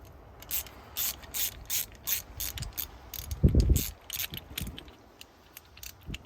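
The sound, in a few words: wrench loosening a 9/16 bolt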